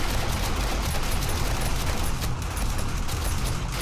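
A police officer in a video game fires through a gap, producing a dense, steady burst of rapid gunfire that rattles on for several seconds at moderate volume.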